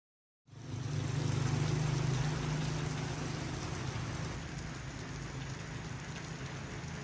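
Steady rain in a village begins abruptly and pours down evenly, a dense, hissing patter on surfaces that holds at a fairly loud level and eases only slightly toward the end.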